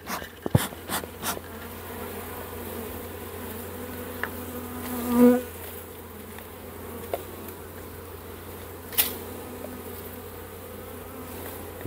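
A honeybee colony buzzes around a hive feeder in a steady, close, humming drone, with individual bees passing near and a few clicks and knocks from handling the hive.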